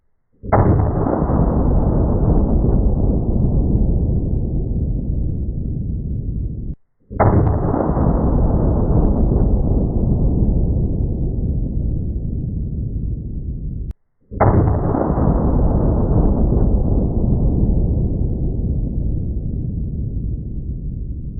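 Three deafening shots from a .500 Magnum revolver, each a sharp blast followed by a long rolling echo of several seconds before the next, with no talking.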